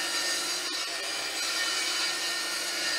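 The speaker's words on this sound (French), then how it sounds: "On vient terminer donc la découpe de cette planche à la scie sur table" A table saw finishing its cut through a wooden plank, the blade giving a steady, loud broadband whine and rasp that continues without a break. It is heard alone, with no talking.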